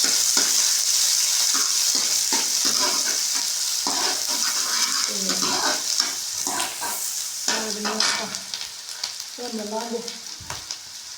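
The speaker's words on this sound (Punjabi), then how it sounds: "ਪਿਆਜ਼ ਨੂੰ ਆਪਾਂ ਭੁੰਨ ਲਾਂਗੇ ਪਿਆਜ਼ ਨੂੰ ਆਪਾਂ ਥੋੜਾ ਜਿਹਾ ਵਧੀਆ ਕਰਕੇ ਭੁੰਨਾਂਗੇ" Onions fry in oil in a kadai for palak paneer, a loud continuous sizzle that eases slightly later, broken by scraping and stirring strokes of a spoon against the pan.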